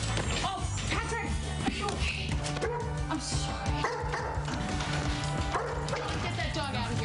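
Dog barking and yipping with whimpers in a tense home scene, loud and close, mixed with agitated voices, a crash and background music throughout.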